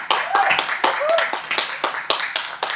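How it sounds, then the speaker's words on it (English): Scattered clapping for Jennifer, a singer at a Sunday church service, heard over an online call as sparse, uneven hand claps with voices and a short sung or spoken tone mixed in. "Let's give her a big round of applause."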